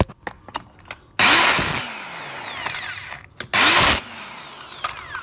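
A power tool whirs on coilovers being fitted to an MK5 track car, with several short ticks and clicks followed by two loud, sustained bursts of about half a second each, close to the microphone and free of talk.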